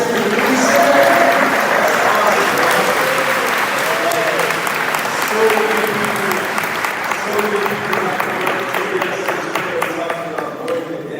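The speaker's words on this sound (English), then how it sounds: "Can we clap for the Baxter Community Center?" An audience breaks into sustained applause for the Baxter Community Center at a press conference, many hands clapping steadily before slowly tapering, with voices mixed in underneath.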